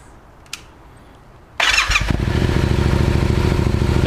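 A warmed-up Yamaha MT-07 with an Akrapovic exhaust starts: a faint click and a quiet lull, then a brief starter whir and the engine catching into a loud, steady, throbbing idle that holds close by.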